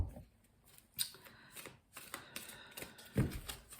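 Rider-Waite tarot cards are shuffled close by, with soft riffling and flicking, a few sharper snaps, and a louder riffle near the end, with no talking.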